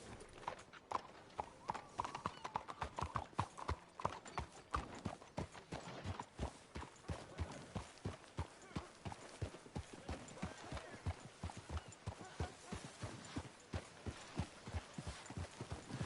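Horse hooves clip-clop at a steady trotting rhythm in the Red Dead Redemption 2 video game, crisp and close, with faint voices now and then underneath.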